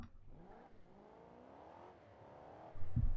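The Gavril Kodiak's engine in a video game revs quietly, rising and falling in pitch over a few seconds and ending in a low thump.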